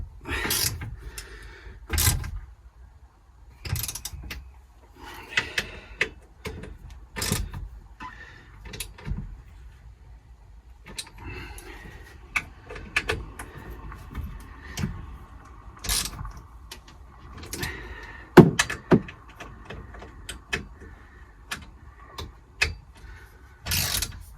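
Wrench clicks and metallic knocks come in uneven bursts while the bolts of a CTA swivel seat base are tightened in a Fiat Ducato van, with faint rattles between them and no voices.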